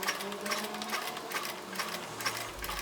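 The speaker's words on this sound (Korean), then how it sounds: "저는 미싱으로 슝 바느질했어요." A sewing machine runs steadily as it stitches around the edge of a gingerbread man quilt piece for a country doll wreath, its rapid mechanical whir close and continuous with small pitch shifts near the end.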